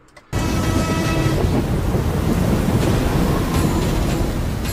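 Heavy thunderstorm rain bursts in abruptly after a brief silence, a loud, dense roar of downpour with rumbling thunder that holds steady throughout, in a film battle scene.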